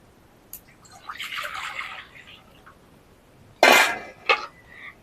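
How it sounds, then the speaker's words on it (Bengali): Water is poured into a karahi set on a lit stove for papaya chutney, giving two bursts of splashing and gushing, the second louder and closer, with quieter clatter between. "চুলোটা ধরিয়ে কড়াইটা বসিয়ে দিয়েছি এবার দিয়ে দিচ্ছি পানি"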